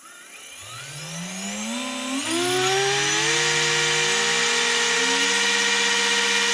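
Rocket Gecko sensored brushless 3500 kv inrunner motor, fitted to a Traxxas TRX-4M, spooling up with a rising whine that steps up in pitch and then holds steady and loud at full speed.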